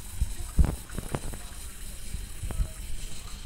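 Potatoes being rinsed by hand in a bowl of water, with irregular sloshes, splashes and gentle swirling in bursts, close by and moderately loud, no speech.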